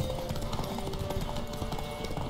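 Horse hooves galloping in The Witcher 3: Wild Hunt during a race, a fast, steady drumming of clip-clops under a dense wash of game noise, continuous and fairly loud throughout.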